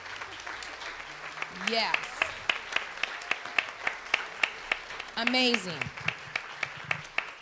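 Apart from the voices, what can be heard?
congregation applauding the volunteers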